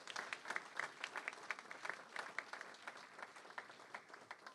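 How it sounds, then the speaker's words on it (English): Faint, distant hand clapping from a crowd at a mayoral public safety announcement honors a community partner, with irregular claps rising and falling for a few seconds. "you should show her some love by giving her a hand clap"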